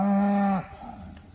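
A single loud, drawn-out moo from beef cattle moved onto fresh pasture, close by, fading into quiet field ambience.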